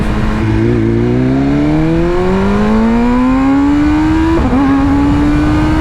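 A 2023 BMW M1000R motorcycle engine pulls hard at full throttle, its loud, close roar climbing steadily in pitch through the revs with one brief dip at a gear change before rising again.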